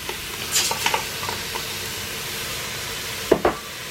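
Ethiopian lentil sauce with turnips and tomato bubbling over a low steady hiss, with a few brief scraping stirs near the start and two sharper strokes near the end.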